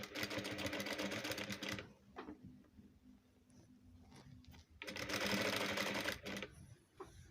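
A sewing machine runs two fast bursts of stitching along a velvet house dress with a round yoke, separated by a pause with faint handling clicks; the motor is loud and close.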